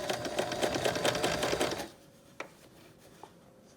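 A sewing machine stitches rapidly over a torn pant pocket seam, loud and close with a steady fast needle rhythm for about two seconds, then stops, leaving a low hum and a couple of small clicks.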